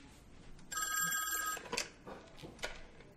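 A telephone rings in a Squid Game episode, a single burst of bright electronic trilling about a second long, followed by faint rustling and soft background sounds.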